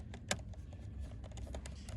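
Screws are being removed from the keyboard of a Dell Latitude E5510 laptop, producing faint, close, irregular small clicks and ticks of a screwdriver on metal and plastic.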